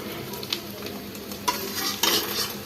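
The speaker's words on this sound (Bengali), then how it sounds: "ডিম ভাজা শেষ" Eggs frying in a pan on a home stove give a steady sizzle, broken by a few louder scraping stirs of a spatula, with no talk.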